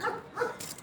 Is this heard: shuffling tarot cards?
no